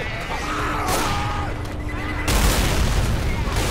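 Grenade blast in Left 4 Dead 2, a loud boom with rolling crackle and burst-like debris noise that jumps sharply partway through, mixed with chaotic gunfire-like bangs and brief voices.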